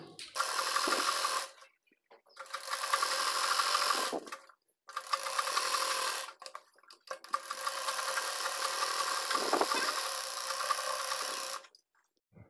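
A sewing machine stitches a dhoti salwar in four bursts of fast, buzzing whirring separated by short silent pauses, close and clear.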